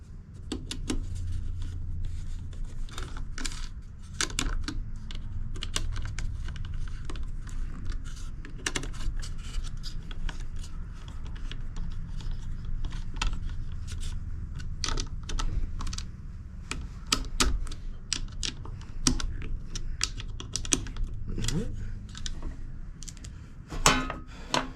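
Small nuts being tightened onto the back plate of a 16-volt car alternator regulator, with many sharp light metallic clicks and taps in an uneven rhythm, close up over a low steady background hum.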